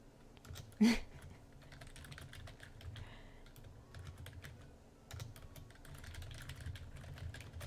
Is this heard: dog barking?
no